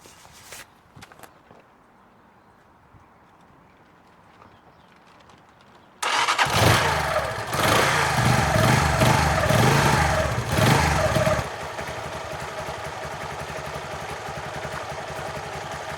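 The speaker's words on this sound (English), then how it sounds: "I'm gonna turn the engine on and I'm gonna rev it slightly just to get oil flowing around." A motorcycle engine, running during an oil and filter change, starts abruptly after a quiet stretch of faint handling noises, then roars loudly and revs for several seconds before settling into a steady, slightly quieter idle.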